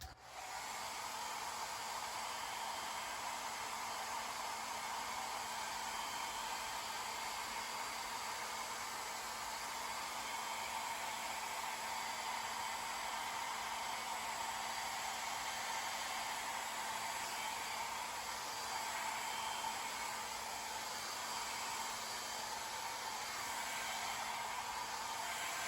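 A hair dryer blows steadily and close by for the whole stretch, force-drying fresh paint on a large-scale Polar Lights C-57D space cruiser model; a constant airy roar with a faint whine, no voices.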